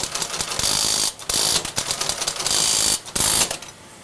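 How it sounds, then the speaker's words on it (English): A teleprinter at Bletchley Park clatters busily up close printing Lorenz codebreaking results, rapid ratcheting strikes in bursts separated by short gaps, fading out at the end. "So now you hear it printing out the final results."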